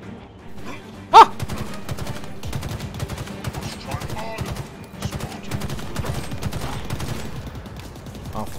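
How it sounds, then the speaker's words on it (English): Assault rifle fire in the video game Halo Infinite, rapid rattling bursts repeating steadily over several seconds, with one loud sharp blast near the start and game effects layered underneath. "Assault rifle."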